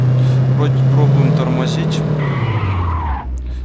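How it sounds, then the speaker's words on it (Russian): Toyota Avalon braking hard in the City Car Driving game, loud tires skidding and squealing as the engine note drops and fades to a stop, with someone speaking over it. "Достаточно хорошо тормозит"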